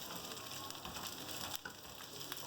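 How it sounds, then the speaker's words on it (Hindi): Onions fry in oil over a medium flame for chicken jalfrezi, a dense, steady crackling sizzle heard close with a few faint stirring touches. "प्याज डाल देंगे। फ्राई करेंगे इसको।"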